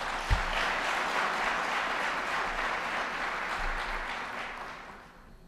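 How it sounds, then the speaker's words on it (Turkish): Sustained applause from a political rally audience, a dense steady wash of clapping that holds for several seconds and then fades toward the end. "Bir büyük alkış da onlara"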